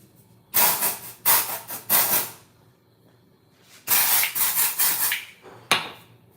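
Dry shampoo sprayed from an aerosol can into hair: sharp bursts of close hiss, a few short spritzes followed by a longer run of rapid sprays, with no talking.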